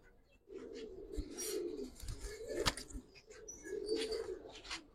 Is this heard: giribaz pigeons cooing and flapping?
yes